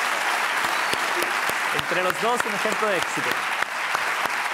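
Studio audience applause on a Spanish late-night talk show, a dense, steady wash of clapping that runs the whole time, with a voice talking over it in the middle.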